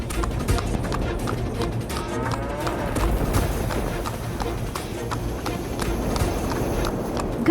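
Buffalo and her calf running in a cartoon, hooves clip-clopping in a steady, busy rhythm under a dense, continuous layer of background noise.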